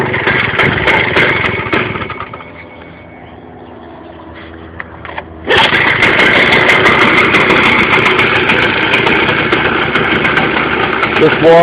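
A 160cc Victa lawnmower engine fitted to a go kart idles loudly and close by with a steady chugging rumble. Its note sags quieter for a few seconds, then jumps back up to a fuller, rougher idle.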